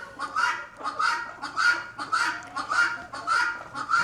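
Guinea fowl call noisily in a loud, repeated rhythmic chorus of harsh honking cries, nearby, about one burst per half second, with no talk.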